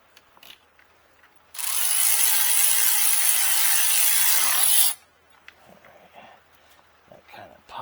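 A ratchet torque wrench tightens the spark plugs on a Hummer H2, giving a close, loud burst of rapid ratcheting clicks that lasts about three seconds, with quiet workshop moments and faint movement before and after.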